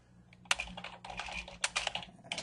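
Quick bursts of key clicks on a computer keyboard as a decimal number is entered into Desmos, three short clusters of close, crisp taps with a faint low hum beneath and no voices.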